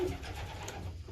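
Jansen blue bar racing pigeons coo softly in a loft, a low murmuring burble that continues steadily through the moment, close by and unaccompanied by talk.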